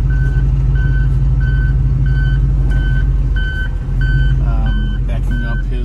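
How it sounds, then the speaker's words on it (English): A tow truck backing up sounds a loud, steady series of evenly spaced reversing beeps over its heavy idling engine rumble, close by. "Backing up his tow truck."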